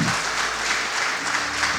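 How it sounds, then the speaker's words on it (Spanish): An audience in a church applauds together, a dense, steady wash of clapping that carries on evenly throughout. "dale un fuerte aplauso al Señor"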